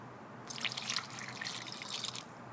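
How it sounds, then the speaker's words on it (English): Water pours from a container into the coolant reservoir of a BMW E65 7 Series, a soft splashing trickle in two bursts over a faint background hum, fairly quiet and close. "Pour a little bit of that. Come over with your water."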